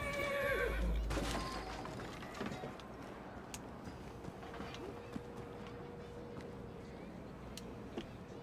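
Horses neighing in the video game Assassin's Creed Syndicate, a loud whinny up front in the first second or two, then a busy game soundscape with faint clatter and scattered knocks.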